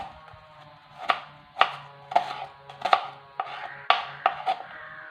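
A knife chops onions on a cutting board for homemade noodles, giving about a dozen sharp, close knocks at an uneven pace with a low hum underneath.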